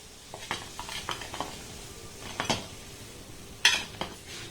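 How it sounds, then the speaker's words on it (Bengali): Fried gulab jamun lifted from hot oil with a metal ladle, bringing a low sizzle and several clinks and scrapes of metal against the pan, close and unvoiced. "মিষ্টিগুলোকে দেখুন আমি উঠিয়ে নিয়েছি।"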